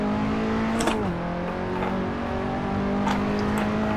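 A KTM X-Bow R engine drones at high revs on the Nordschleife in Assetto Corsa. A gear shift makes the pitch dip briefly, then it settles into a steady, loud whine with faint tire and wind noise.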